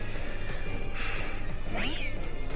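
A short synthesized cat-like cry from Meowstic in a Pokémon video game battle, a single rising and falling meow heard near the end over steady game music.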